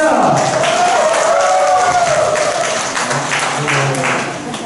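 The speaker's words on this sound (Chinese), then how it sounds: "掌声加尖叫" Audience applause with cheering at a church Christmas party, a steady wash of clapping and shouts filling the room throughout, fading slightly toward the end.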